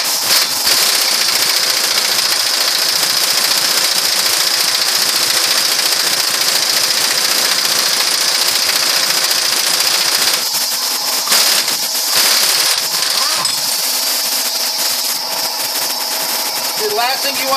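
An expensive pneumatic impact wrench hammers continuously on the spindle nut of a Ford Explorer front hub during wheel bearing repair, a loud, close, sustained rattling buzz with brief dips near the end.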